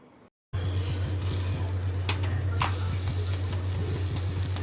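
Bread pizza cooking on a hot tawa over a gas flame gives a steady close sizzle and fry after a brief silence, with a constant low hum and a few faint scrapes and clinks.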